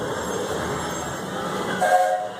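Walt Disney World Railroad train at Magic Kingdom rolling to a stop, a steady rumble of rail noise with a brief squeal of brakes or whistle near the end.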